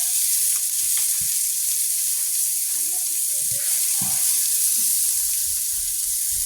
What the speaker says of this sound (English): I'm going to add some minced garlic. I don't even really measure it no more because I make it. So I just go with it, saute that.